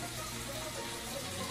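Boiling water that was used to cook salt fish is poured out, giving a steady, close splashing gush that runs unbroken from start to finish with no talking.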